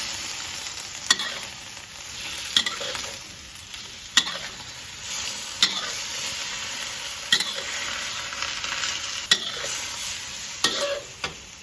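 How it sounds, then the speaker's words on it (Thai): Fried sea bass being stir-fried with celery in a pan, with a steady sizzle and repeated scraping clinks of a spatula against the pan at regular intervals. "เราก็จะใส่ปลากระพงที่เรานำไปทอดลงไปค่ะ แล้วก็คลุกให้เข้ากันค่ะ"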